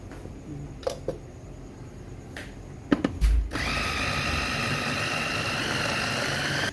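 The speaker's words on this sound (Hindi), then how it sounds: "ये देखें मैंने चॉपर में कीमा डाला है।" An electric chopper mincing keema (minced meat) for qeema naan starts after a few short clicks and bursts, then runs as a steady, loud, close whirring motor drone to the end.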